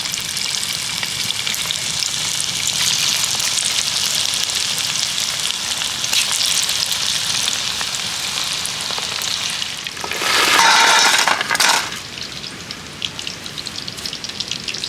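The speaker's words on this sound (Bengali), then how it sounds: "পরের ব্যাচের পকোড়াগুলো একই রকমভাবে ভেজে নেব।" Chicken pakoras deep-frying in oil with a dense, rain-like crackling sizzle that holds steady, then surges briefly louder near the end before easing back.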